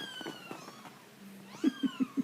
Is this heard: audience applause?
no